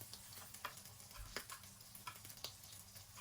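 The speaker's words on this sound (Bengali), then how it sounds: "দেখতে পাচ্ছেন আমি সব ডিমগুলো ভেজে নিচ্ছি লাল লাল করে।" Eggs fry in a pan with a faint, quiet crackle and a few sharper pops scattered through a low, steady sizzle, with no talking.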